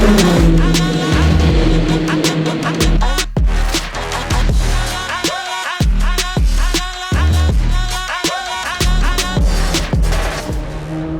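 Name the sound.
Le Mans hypercar race cars with petrol engines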